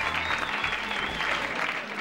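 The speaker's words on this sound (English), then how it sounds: "Audience, let's give all these ladies a big round of applause." A pageant audience gives sustained applause, a dense, even wash of clapping hands that holds steady throughout.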